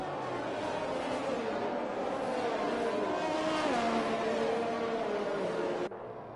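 Race cars circulate under the safety car in a GP3 sim racing game at Bahrain, a steady engine drone with shifting pitch as the field rolls along, loud and continuous before cutting lower near the end.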